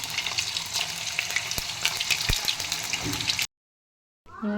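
Chicken pieces frying in a pan over a high flame for a Telugu chicken pickle, a dense steady sizzle with a few knocks from stirring, then a sudden cut to silence and a brief different sound.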